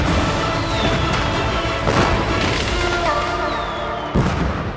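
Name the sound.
fireworks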